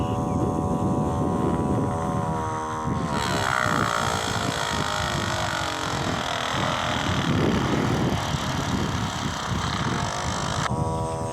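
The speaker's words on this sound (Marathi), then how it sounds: "ही जोडल्यानंतर आपली मोटर अशी चालू झालेली ही मोटर चालू झाल्यानंतर अतिशय सोप्या पद्धतीने होल पडतं" A small electric motor fitted with a pin bores holes in PVC pipe for drip irrigation. It gives a loud, continuous whirring hum with wavering pitch, and the grinding grows harsher partway through as the pin cuts into the plastic.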